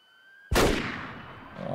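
A single loud rifle shot cracks out in the hunting game Way of the Hunter, a sharp broadband blast followed by a long fading echo rolling across open mountain terrain.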